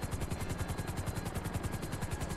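Helicopter rotor in the video game GTA V, a steady rapid chopping beat running the whole time over a broad whine, close and moderately loud, with no talking.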